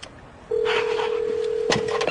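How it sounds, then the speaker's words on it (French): A telephone keypad sounds as a number is dialed: a single loud, steady tone holds for over a second and a half, with a short extra click near its end. "Alors je compose le numéro de Becky."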